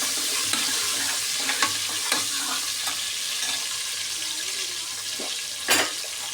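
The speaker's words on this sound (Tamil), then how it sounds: "நல்லா வதக்கிட்டேன்." Onions and spices sauté in a pan for chicken biryani, with a constant close sizzle and occasional scrapes and clinks of stirring, heard alone with no talk.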